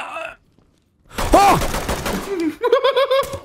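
Video game gunfire in Ready or Not: a short burst of shots lands right after a brief silence, mixed with loud, agitated voices and a shout, all close and harsh.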